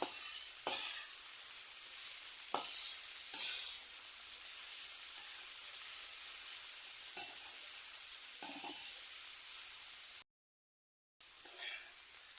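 Bottle gourd leaves sizzle loudly in a pan with onion and garlic, a continuous close hiss broken by occasional stirring strokes and one short gap.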